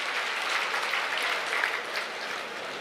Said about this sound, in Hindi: एक बार जोरदार ताली बजाएं हम माननीय मुख्यमंत्री नायब सैनी जी के